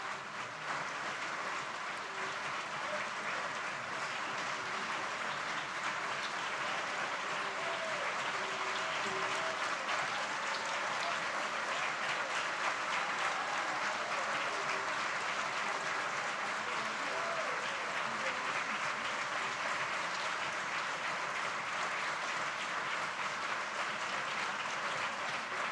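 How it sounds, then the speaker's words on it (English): A conference audience at a regional gathering on women in Latin America and the Caribbean applauds warmly, sustained dense clapping from a large crowd continuing evenly for nearly half a minute. "to please stand up for a warm round of applause"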